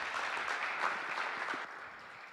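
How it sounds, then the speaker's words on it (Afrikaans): Quiet audience applause at a gathering honouring frontline workers, a short, soft patter of hands that thins out toward the end. "Kom ons gee vir 'n lekker hande klap."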